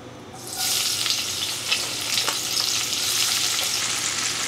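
Onions dropped into a pan of hot oil for pasta all'amatriciana, a sudden burst of sizzling that settles into a steady, fairly loud hiss with faint crackles.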